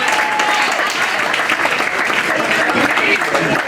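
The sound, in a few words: applause for the best man at a wedding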